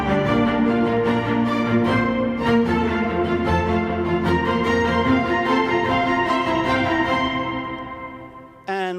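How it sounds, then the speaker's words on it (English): A string ensemble of violas and violins plays layered sustained lines that climb from low to higher register, then thin out and fade near the end. "I wrote a couple of lines for the viola section and violin section"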